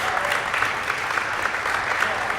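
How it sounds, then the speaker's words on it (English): A banquet audience at a fund-raising dinner applauds, a full, steady round of clapping from many hands filling the room throughout. "Let's give them a round of applause."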